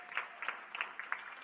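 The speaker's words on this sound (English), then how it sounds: "Give this guy a huge round of applause" Scattered, faint clapping from an audience at a Democratic National Committee summer meeting in Minneapolis, with a few distinct claps spaced apart rather than a full ovation.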